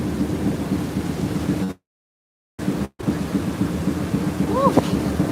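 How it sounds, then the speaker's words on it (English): Heavy rain falls in a steady, close roar with low rumbling thunder beneath it, cut by two short silent gaps, and a brief rising whistle-like tone near the end. "Look at this rain, and it's not going anywhere."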